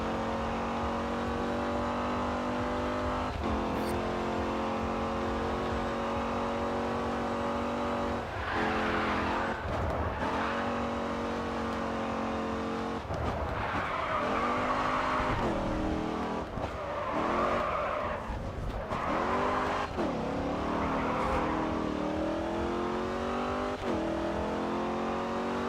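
A Dodge Challenger races and drifts in the Grid 2 driving game, its engine droning steadily and revving up and down through repeated gear changes while tires squeal through slides, continuous and loud.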